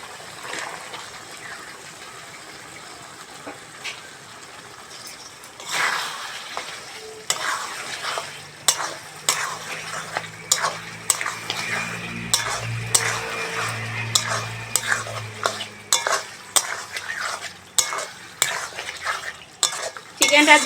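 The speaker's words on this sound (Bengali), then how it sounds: "চিকেনটা দিয়েছি, ভালো করে কষবো এবার" Chicken pieces fry in oily spice masala for a Bengali potol chicken curry, a low sizzle running under repeated clattering scrapes of a spatula against the pan, starting quietly and growing busier and louder as the stirring picks up.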